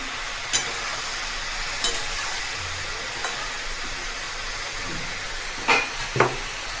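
A pan of ash gourd curry with lentil dumplings is stirred over steady soft frying hiss, with a few brief scrapes and clicks from the spoon. Nobody speaks.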